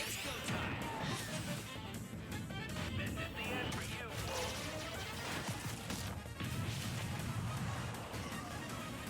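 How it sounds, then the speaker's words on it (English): Fox's Final Smash in a Super Smash Bros. video game: a dense, loud cinematic barrage of crashes, blasts and whooshing impacts, sustained throughout with game music and a voice mixed in. "another one I really like is a classic one, which is Fox's Final Smash"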